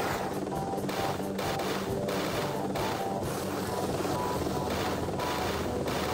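A helicopter in the video game Jet Set Radio HD whirs with a steady, loud rotor drone and rhythmic chopping pulses that keep a constant level, with no voices.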